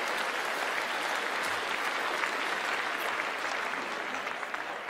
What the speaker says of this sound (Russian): Тут написано аплодисменты.